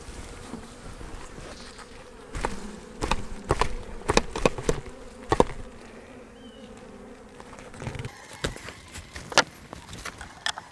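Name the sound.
honey bees buzzing at the hive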